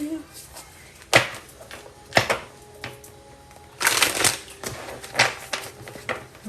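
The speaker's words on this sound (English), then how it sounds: "I'm gonna give this a good shuffle." A deck of playing cards being shuffled up close, with several sharp riffling bursts spread through the stretch and a low hum and faint chatter in the background.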